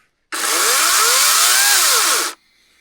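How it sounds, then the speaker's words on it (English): An electric chainsaw revs up loudly and close, holding a steady, even whine for about two seconds before cutting off abruptly, at a cold high-altitude winter campsite. "I may have recently had an upgrade in the electric chainsaw department."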